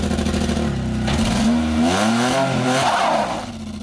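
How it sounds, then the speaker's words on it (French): A DeLorean DMC-12 engine, running rough and misfiring under load, revs up and down with a pitch that climbs and falls, loud and close before easing off at the end. "le moteur, par contre, il se met à tourner sur 3 pattes dès que tu sollicites un peu fort"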